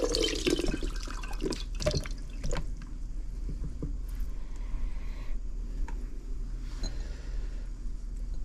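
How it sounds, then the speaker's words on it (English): Milk strained out of Fontina and mozzarella cheese for Italian fonduta drips and trickles steadily into a container, close and fairly loud, with a few brief clinks and splashes near the start. "now we're going to strain the milk out of the cheese"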